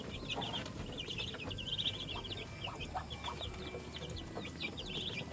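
Two-week-old Rhode Island Red chicks in a backyard coop keep up a stream of high, quick cheeps and soft clucks, faint and fairly distant, over a constant low background hum.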